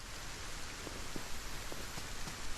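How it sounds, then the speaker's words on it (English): Rain falls in the video game Solarpunk as a faint, even hiss of steady downpour with a few soft drop patters, and no voices over it. "And it's once again raining."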